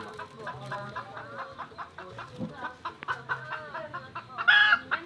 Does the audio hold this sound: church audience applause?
no